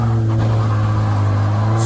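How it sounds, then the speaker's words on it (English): A car idling loudly at an outdoor car meet, a steady low engine drone with no clear rise in revs, close and continuous. "Are you going to rev it or what?"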